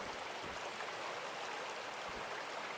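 Water pump in the Gold Mining Simulator game runs with a steady, dense rushing hiss like flowing water, constant and fairly loud with no talk.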